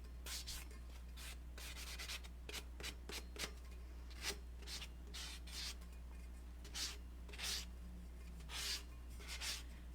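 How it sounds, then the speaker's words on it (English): A painted tumbler is sanded around its top rim in short, quiet, repeated rubbing strokes that come in irregular bursts over a low steady hum. "I'm just taking and just sanding around the top, sanding my triangle area we got going here"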